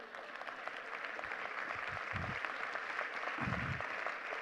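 A lecture audience applauds with a dense, continuous patter of many hands clapping at a moderate distance. A couple of low thumps or brief voices show through under the clapping.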